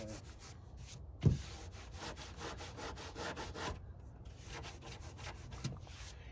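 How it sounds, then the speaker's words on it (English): Steady rasping strokes of sandpaper worked across foam and fiberglass on a C8 Corvette body, repeating in close, even passes with one sharper knock early on, no talking. "When it starts getting thin, you can tell when you're sanding."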